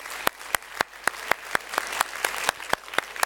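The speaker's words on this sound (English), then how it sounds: "Let's give them a big round of applause to the panelists." An audience at a European development conference panel applauds the panelists: a short burst of sparse, evenly spaced claps that sound close and distinct, with no voices.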